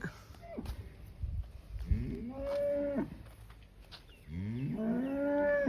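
Cow mooing on a dairy farm, two long drawn-out moos close by separated by short pauses, with rustling and footsteps in the background.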